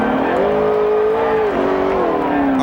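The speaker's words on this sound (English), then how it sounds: "And the engine is, the accelerator is hung wide open, sitting back there against the wall" A NASCAR stock car with its accelerator stuck wide open sits against the wall, the engine holding a loud, steady high-pitched wail that wavers slightly and dips once before climbing again, with no talk over it.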